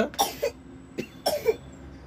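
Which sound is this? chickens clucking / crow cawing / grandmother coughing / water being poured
grandmother coughing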